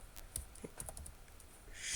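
Quick bursts of key presses typing commands on a computer keyboard, a few scattered clicks then a faster run of taps, close and fairly quiet, with no talk.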